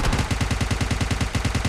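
Rapid automatic fire from a UMP in a battle royale video game, a steady stream of evenly spaced, punchy shots, loud and close.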